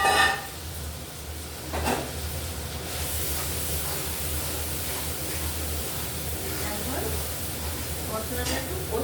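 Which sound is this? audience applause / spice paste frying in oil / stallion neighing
spice paste frying in oil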